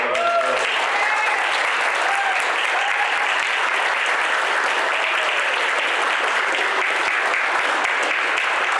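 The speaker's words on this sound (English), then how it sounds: "give it a round of applause for all of us" At a fire communications center badge and service awards presentation, the audience gives a loud, sustained round of applause, with a few voices heard briefly near the start.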